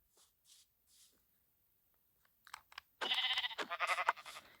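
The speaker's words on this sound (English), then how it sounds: "I heard a sheep" After a few faint, scattered shuffles, a sheep breaks into a close, loud run of wavering bleats that fill the last second and a half.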